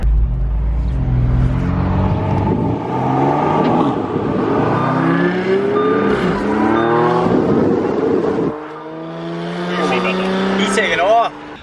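A 2017 BMW M4 accelerating hard on a test drive, its engine rising through several gear changes with sweeping revs and shifts, loud and close from inside the car, with voices chatting over it.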